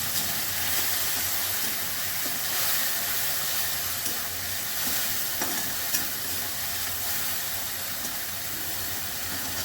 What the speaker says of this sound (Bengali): এবার আমি সর্ষে বাটাটা দিয়ে দিচ্ছি। এর সঙ্গে কাঁচা লঙ্কা